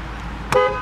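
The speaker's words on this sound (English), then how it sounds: "Honk works." A single short horn toot from a 2008 Ford Crown Victoria Police Interceptor sounds close by, abrupt and brief over a low engine hum.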